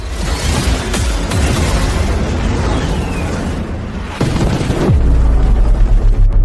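Heavy assault ammunition detonates in a dramatic battle scene, a loud sustained roar of blasts and booms with a sharp burst near the end, continuous and close with no talk.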